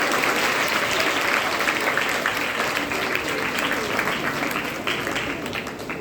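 A crowd gives a woman a big round of applause: continuous, thick clapping that holds steady, then gradually tapers off toward the end.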